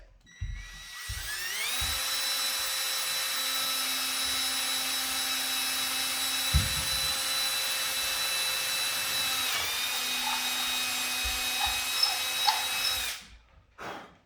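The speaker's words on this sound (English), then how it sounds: "Just drill holes in stuff you just painted." A power drill whirs up to a sustained high whine for several seconds, cuts briefly, then spins again, with a few clunks at the start and end.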